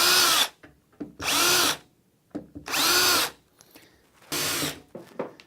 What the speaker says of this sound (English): I'm now going to drill 3 holes on each leg